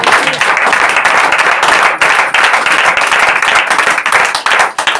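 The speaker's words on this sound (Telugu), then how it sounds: "చప్పట్లు కొడదామా?" A church congregation claps together at the close of a forty-day prayer service: loud, dense, continuous hand-clapping from many people nearby, lasting several seconds with no pause.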